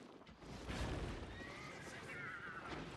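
A horse in the online fantasy game Albion Online gives a high whinny over game ambience and clip-clop movement. The whinny rises mid-clip and trails off, with a faint voice in the background.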